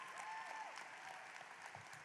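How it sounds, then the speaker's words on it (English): Audience applause at a high school graduation ceremony, honoring the parent-teacher organization: a steady wash of clapping from a large crowd, heard at a distance and fairly faint, with no voices over it. "give our PTO a round of applause"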